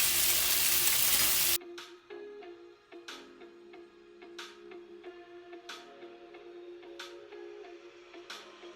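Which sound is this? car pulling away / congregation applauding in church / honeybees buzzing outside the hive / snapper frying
snapper frying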